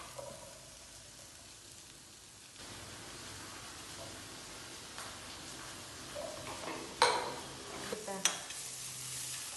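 Onions sautéing with salt in a pan, a soft low hiss that swells after a few seconds, then a few sharp scrapes and clinks of a spoon stirring toward the end, no talking.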